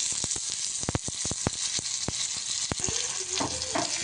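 Mustard seeds, cumin and garlic paste crackle in hot ghee for a tempering, with sharp popping bursts scattered over a steady close sizzle, and a brief clink or stir near the end.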